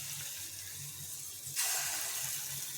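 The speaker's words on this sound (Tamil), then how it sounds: "அடுப்பில் எண்ணெய் வச்சு காஞ்சாச்சு. இதுவும் 10 நிமிஷம் ஊறியாச்சு. கொஞ்சம் கொஞ்சமாக போட்டுக்கலாம்." Rava bonda batter dropped into hot oil, a steady hissing sizzle that suddenly grows louder and brighter as more batter goes in, close and without talk.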